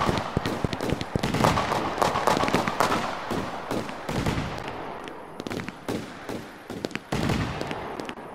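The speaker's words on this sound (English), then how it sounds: "Look at the fireworks" Dense, rapid bursts of video game fireworks at New Year crackling and booming, overlapping continuously with sharp pops and a few louder bangs, steady and close throughout.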